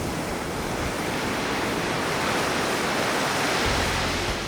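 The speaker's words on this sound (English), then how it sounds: "And when they crash, these huge walls of water actually shake the earth." Huge ocean waves crash at Mavericks, filling the air with a loud, continuous roar of surf and spray that rumbles steadily without pause.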